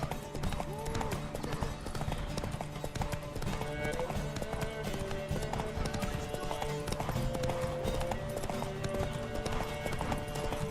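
Horse hooves gallop steadily through a race against Ciri in the video game The Witcher 3, with the clip-clop running continuously under loud game music and voices.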